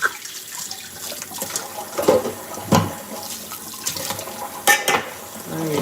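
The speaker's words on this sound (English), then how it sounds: "Happy washing." Tap water running into a sink during late-night washing, a steady splash with occasional clinks of dishes and louder spurts, close and alone.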